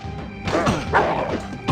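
Video game dogs bark and snarl in an attack, with bursts of barking mixed with thuds and crashing hits over a couple of seconds.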